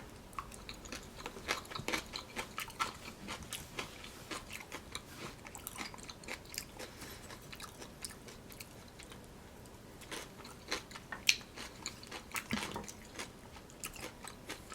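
Close chewing and crunching of kimchi dipped in hemp seeds during a vegan meal, with soft repeated bites and wet squishy mastication, no talking.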